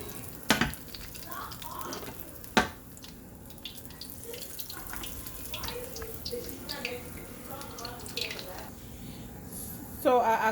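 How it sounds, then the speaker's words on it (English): Accra bean fritters for Cameroonian akala fry in hot oil with a steady bubbling sizzle, punctuated by a couple of sharp clinks, while a person talks over it. "I do the same thing, and I drop it in oil."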